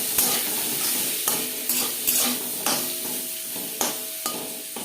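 Bitter gourd frying in a pan with turmeric and salt gives a steady close sizzle, broken by repeated scrapes and taps of stirring. No one speaks.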